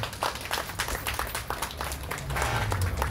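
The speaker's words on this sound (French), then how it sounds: "est-ce qu'on peut applaudir pour Dieu, s'il vous plaît?" Guests at a shop's official opening clap in uneven bursts, with individual claps standing out close by and a denser patch of applause building toward the end.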